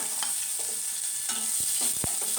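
Chopped onion sizzles in hot oil with mustard seeds, a bright steady hiss broken by a few spoon scrapes and stirring clacks in the pan.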